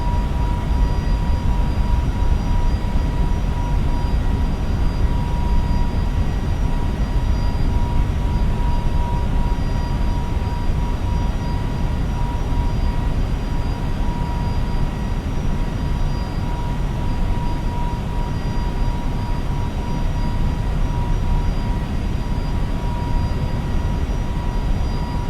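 Airbus A321neo jet engines at climb thrust in a flight simulator, a steady, loud cabin-style roar with a faint whine running through it, unbroken and heard alone throughout.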